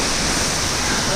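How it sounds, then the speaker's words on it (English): A waterfall near Puncak Bogor roars as a loud, steady broadband rush of falling water with no breaks, close and enveloping, with a voice faintly under it. "Here is the waterfall."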